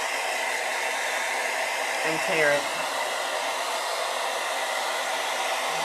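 A hair dryer runs loudly and steadily throughout during a Mod Podge craft session, with a brief voice breaking in near the middle over the constant blowing roar.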